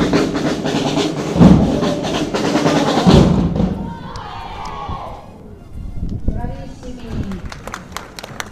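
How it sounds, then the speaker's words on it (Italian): Crowd at a palio parade clapping and cheering, a loud mixed roar of applause and shouts that thins out, with drum-like thumps and a voice talking over it. "Un meritato applauso."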